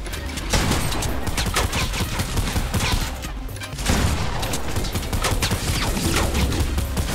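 Rapid bursts of gunfire in the video game Fortnite crackle almost nonstop, loud and dense, with a brief lull midway before the shooting resumes.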